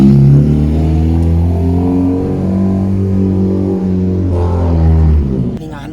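A loud race car engine at a race track revving hard and close, its pitch rising and falling in sustained roaring sweeps.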